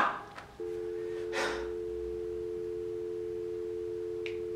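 After a caller hangs up, a telephone line gives a steady, unbroken tone that starts abruptly and holds at an even level. A few faint clicks and a soft breath sound over it.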